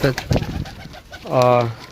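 Sialkoti pigeons cooing at a pigeon sale in Pakistan, a few soft throaty coos close by, with a longer rolling coo toward the end, mixed with brief voices nearby.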